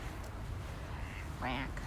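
Ducks in Toronto, heard outdoors as a brief single quack near the end, over steady ambient wind and street noise.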